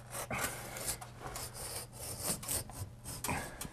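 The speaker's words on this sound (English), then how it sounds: "I'm going to score the seam with a utility knife so it releases the paint when I remove the panel" A utility knife scores and slices along a painted wall panel seam, giving repeated rasping, scraping strokes that stay steady and close throughout. A low hum sits underneath, and no one speaks.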